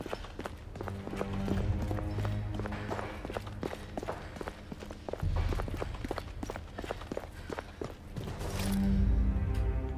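Horse hooves clip-clop in a steady, fairly close rhythm in the video game The Order 1886, with game ambience beneath and a brief swell near the end.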